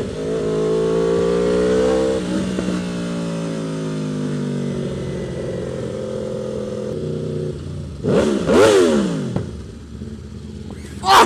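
An Aprilia RSV4R motorcycle engine drones steadily at high revs, then blips sharply several times near the end, loud and close with no talk.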